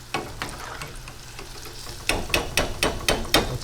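Pieces of food frying in hot oil until golden, a steady crackling sizzle with a run of sharper louder pops toward the end, close up and with no talking.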